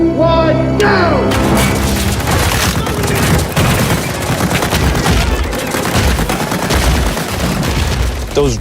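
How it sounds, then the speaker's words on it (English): Hundreds of practical bullet-hit charges tear through trees on a film set in a continuous loud barrage of bangs and crackling blasts, starting abruptly after a brief voice and sustained for several seconds. "We have about 660 bullet hits that we're syncing up with the camera for this shot."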